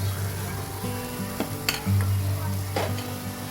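Ground onion and coconut masala paste sizzles steadily in oil while it is stirred for a tender raw jackfruit bhaji. A few scraping strokes and clinks sound over a constant low hum, close and moderately loud, with no talk.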